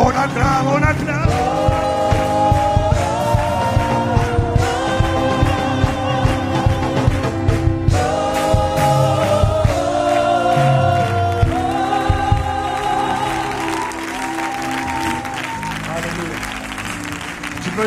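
A church congregation at a French-language worship service claps and cheers loudly and continuously, with music and singing carrying on through the applause.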